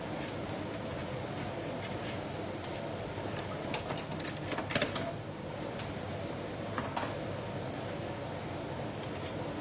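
Die cutting and embossing machine cranking a card front through with a shim, a continuous low rumbling grind with scattered clicks and creaks, steady and close for the whole stretch.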